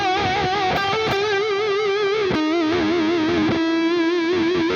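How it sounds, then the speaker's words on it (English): A distorted electric guitar plays a sustained melody with an intense, wide vibrato wobbling every note, loud and close with no voices. "you are playing all notes with a really intense vibrato"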